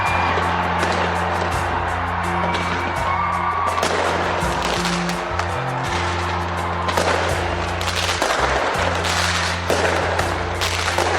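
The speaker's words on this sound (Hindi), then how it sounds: "काउंटडाउन के बाद आतिशबाजी होते ही नए साल का जोरदार तरीके से स्वागत किया गया।" Crackling bursts and pops of New Year fireworks in New Zealand go off continuously, with a steady low rumble underneath and dense overlapping bangs throughout.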